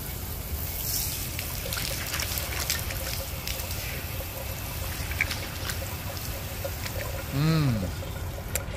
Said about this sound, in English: I'm gonna have a rinse here.